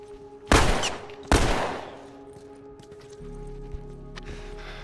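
Sniper rifle gunfire in The Last of Us, two loud, close, sharp cracks about a second apart, each trailing off in a long echoing decay over low game ambience.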